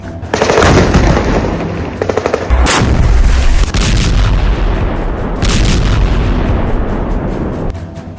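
Israeli missile strikes hit Gaza at night in a loud barrage of heavy booms and sharp cracking blasts, several closely spaced bursts layered over a continuous rumbling din.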